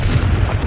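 Confringo blasting spell, a short loud booming explosion burst.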